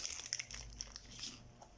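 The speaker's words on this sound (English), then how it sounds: "I'm gonna bite into is one of those tacos. The Jack in the Box tacos" Bite into a Jack in the Box beef taco with lettuce and sauce, a few quiet crisp crunches of the shell close up, soft and brief.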